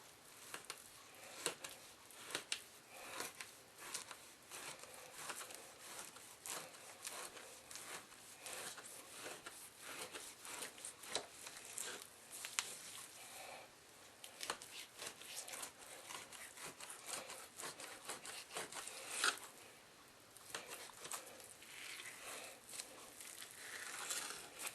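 A knife slices a trimmed ham fat cap into strips for tasso ham, giving faint, steady scraping and rubbing strokes with a few sharper cuts, close by with no talking.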